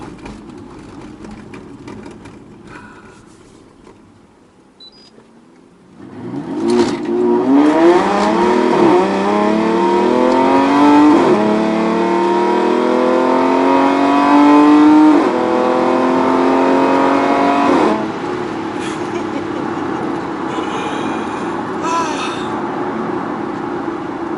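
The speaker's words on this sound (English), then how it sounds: "Just want to listen to the car one more time before I drive in full civil mode." A car engine with a catalytic converter problem sits idling quietly, then revs hard and holds a loud, rising roar for about twelve seconds before settling to a lower steady drone.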